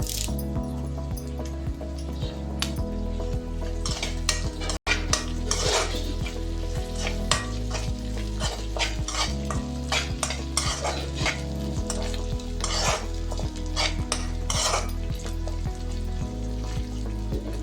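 Fresh curry leaves frying in hot oil with ginger in a pan, loud continuous sizzling and crackling close up, with repeated scraping and clinking of a spoon stirring throughout.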